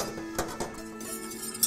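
Salt is stirred into water in a saucepan, giving a few faint metallic clinks and scrapes at irregular intervals, with no talking.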